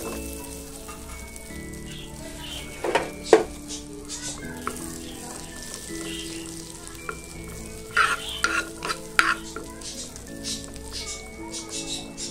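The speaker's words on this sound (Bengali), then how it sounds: "সেমাইটি ভাজার জন্য বাটার নিয়ে নিব, বাটারটি গলানো পর্যন্ত।" Butter melting in a pan before vermicelli is fried for kunafa chocolate, a soft low sizzle with scattered clinks and scrapes of a utensil against the pan, some louder knocks, close and fairly quiet.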